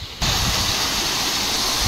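A fountain at the National Museum in Kathmandu pours water, a loud steady rushing splash that starts abruptly after a brief quieter moment and holds constant, close by, without talk.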